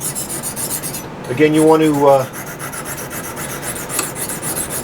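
A knife edge is stroked against a Lansky sharpening system hone, making steady, close, raspy scraping strokes in a repeating rhythm; someone speaks briefly partway through.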